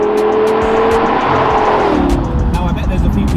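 An Audi R8 GT Spyder is driven with its roof down, its engine droning loud and steady then shifting pitch midway, up close, with wind and road rush throughout.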